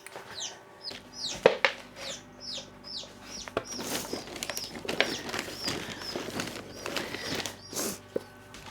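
Many baby chicks chirp in quick, high peeps, some overlapping, fairly close, with occasional rustling in the background.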